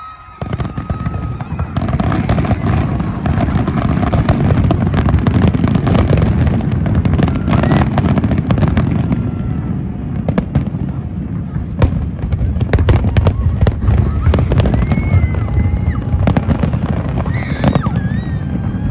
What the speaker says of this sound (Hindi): जी बस अभी टाइम हो गया फायरवर्क्स का